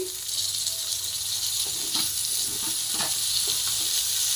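Finely chopped tomatoes hit a pan of reddish-browned onions for a bottle gourd kofta curry, giving a steady close sizzle and hiss throughout, with faint scraping stirs scattered over it.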